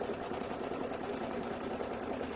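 An embroidery machine stitches out a quilt block, a continuous, even, fast mechanical chatter heard close and alone throughout.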